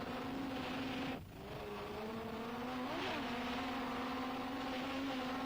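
A Class 1 offshore racing powerboat at speed in Guernsey, its steady engine drone shifting pitch with small throttle changes, with a brief dip in level partway through, continuous and fairly distant.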